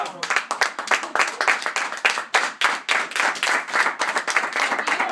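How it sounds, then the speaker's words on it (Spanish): A small standing group gives a strong round of applause, a sparse, close run of individual hand claps with uneven rhythm, loud and lively throughout with some voices mixed in. "Yo quiero que nos paremos y le demos un fuerte aplauso"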